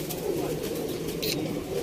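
A prized golden pigeon from a Sialkot pigeon-keeping loft coos softly and repeatedly, close by, with faint background chatter and a brief higher sound partway through.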